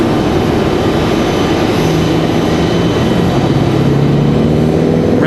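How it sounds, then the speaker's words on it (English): Boeing 757 airliner taxiing out at Raleigh-Durham International Airport gives a steady, loud jet engine roar and whine with a rising tonal hum, heard without talk. "We do have that 757 taxiing out,"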